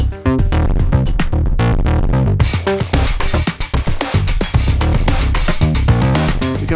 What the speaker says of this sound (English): you're going to hear that oscillator going through the VCA and overdrive sections of